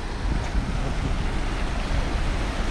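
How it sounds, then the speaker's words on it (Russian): A loud, constant roar of water rushing down from a 120-metre Yenisei River dam pours without a break, broad and dense like a big waterfall. "Вода херачит с высоты 120 метров."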